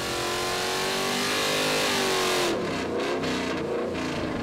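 A Ford Coyote Aluminator V8 on a dyno screams at high revs, loud and steady, then the revs drop away as the throttle closes, with no talking.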